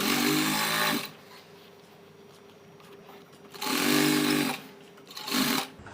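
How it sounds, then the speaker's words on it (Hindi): A sewing machine stitches fabric with piping in a loud, steady whirring run, stops, runs again in a second burst, then gives a short final spurt, with quiet pauses between. "इसको इस तरह से फोल्ड करते हुए पूरा सिल लेंगे हम"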